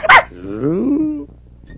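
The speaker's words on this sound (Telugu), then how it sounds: "కుక్క గోడెక్కడం ఏంటి సార్? కుక్క." A dog gives one sharp bark, followed by a drawn-out whining howl that slides in pitch before fading, close and loud.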